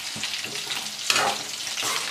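Chicken kabab frying in a pan, a dense, close sizzle with a few louder bursts and stirring scrapes, continuous with no voices.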